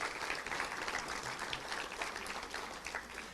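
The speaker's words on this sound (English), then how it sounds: "Let's give a big round of applause to all of them," Audience applause for a volunteer team at a Little Rock Touchdown Club luncheon, a steady, fairly quiet wash of many hands clapping throughout.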